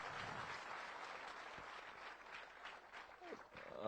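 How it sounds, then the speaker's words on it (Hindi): Faint, distant crowd applause at an outdoor public government event in Narayanpur, Chhattisgarh, a thin scattered patter with a brief voice near the end. "ऊपर की पब्लिक कम बजा रही ताली,"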